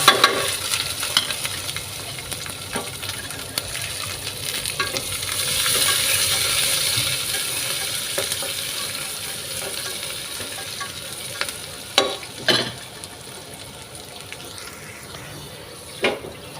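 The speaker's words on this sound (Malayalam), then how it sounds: "തേങ്ങ കൊത്തും ഉള്ളി കുറച്ച് വറുത്ത്" Coconut pieces and shallots fry in hot oil for kalathappam, a steady close sizzle with stirring clatter and a few sharp utensil knocks toward the end.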